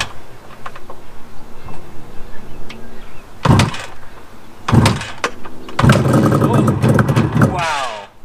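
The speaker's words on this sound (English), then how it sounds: "I'm gonna try to kickstart it" A Suzuki GT550 two-stroke triple motorcycle is kickstarted three times, each kick a loud broadband burst at roughly one-second spacing, the last catching briefly into a rough running engine note before stalling.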